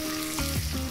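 Onion, eggplant and red and green capsicum sizzle steadily in Margaret River extra virgin olive oil for paella, a close, even crackle with some low tonal hum underneath.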